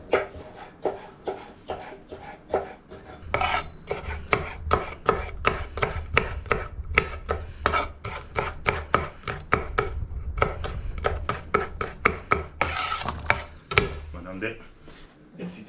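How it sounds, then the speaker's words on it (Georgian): A knife slicing a bell pepper into thin long strips on a cutting board, many quick sharp chops in fast irregular runs with brief pauses, close and clear, with someone talking over the cutting. "შევეცადოთ, რომ მაქსიმალურად წვრილად და გრძლად დავჭრათ. დავჭრათ ბულგარული, გამოვაცალოთ შიგთავსი."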